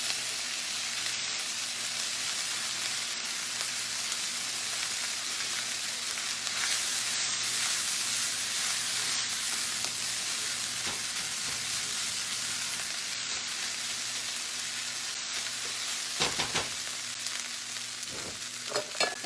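Chicken fried rice stir-frying in a pan over high heat gives a steady, close sizzle throughout, with a few scraping stirs near the end.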